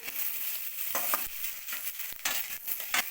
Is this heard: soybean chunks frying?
yes